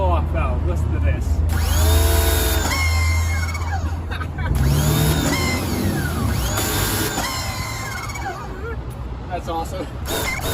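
Electric pressure washer's blow-off valve releasing in repeated bursts, loud and close, each burst with a rising and falling whine over a steady motor hum, with voices murmuring underneath.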